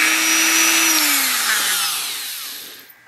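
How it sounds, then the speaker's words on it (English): A die grinder smooths a metal casting on a restored bull's head novelty perfume dispenser, a loud high-pitched whine whose pitch slowly falls as the tool bears down, then fades and spins down near the end. "to smooth it out, finish it up, I'm using my die grinder"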